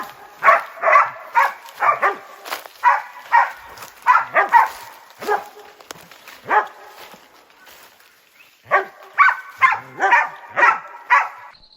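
Pack of hunting dogs baying steadily at a large wild boar held at bay near a river, with repeated loud, close barks and yips in bursts, a short lull in the middle, then renewed rapid baying.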